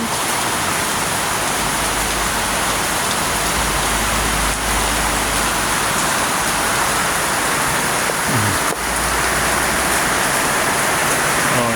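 Heavy rain pours down in a dense, constant roar, loud and unbroken throughout, with a couple of faint bumps beneath it.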